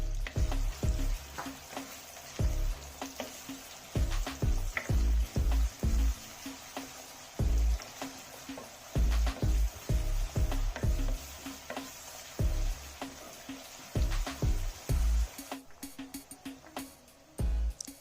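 Onion and curry leaves fry in hot oil for a traditional fish curry, giving a steady loud sizzle broken by repeated thuds and scrapes of stirring, close up with no talking.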